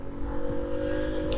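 A 1995 Honda CD50 Benly, a small 50cc motorcycle, pulls away, its little engine droning steadily as it gains speed. The tone is loud and close, with no talk over it.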